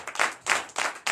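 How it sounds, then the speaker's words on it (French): Short bursts of church congregation applause acclaiming a testimony at a Sunday service, several waves of clapping swelling and fading in quick succession, fairly close and lively with no talk over it. "je vous demande encore de donner de vives acclamations à ce témoignage"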